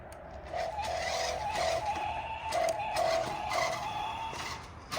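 A dual-motor Tesla Cybertruck RC toy car drives around with a steady, continuous whine of small electric motors, swelling and easing as it speeds up and turns, fairly close throughout.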